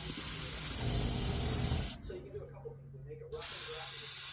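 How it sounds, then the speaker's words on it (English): Close, hissing bursts of spray paint from an airbrush or spray can coat a bluegill-pattern crankbait fishing lure. The spraying cuts off for about a second and a half, leaving quiet room tone, then the hiss starts again. "Just going to spray it along the top,"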